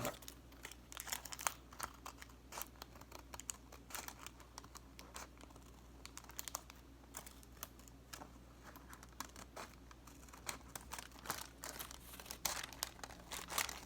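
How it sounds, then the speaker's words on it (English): Scissors cut out a homemade sticker with quick, repeated snipping and crinkling of paper, close and faint over a low steady hum. "Now I'm going to cut that out."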